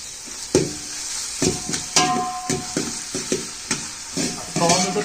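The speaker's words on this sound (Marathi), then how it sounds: "आता टॉमॅटो आहेत ना ते थोडेसे नरम होईपर्यंत शिजवून देऊया" Tomatoes frying in a pan for a chicken recipe, a steady hiss with a sizzle throughout and repeated clatter of a spoon stirring and scraping against the pan.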